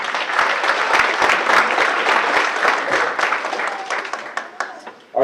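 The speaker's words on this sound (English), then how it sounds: "so give them a round of applause." A banquet hall crowd gives the track team at an athletic banquet a sustained round of applause, dense clapping that runs steadily for several seconds before thinning out near the end.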